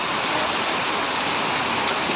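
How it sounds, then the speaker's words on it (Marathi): Dense, constant hiss of a heavy downpour, loud and unbroken, with no voices. "आता लय जोरात पाऊस आलाय"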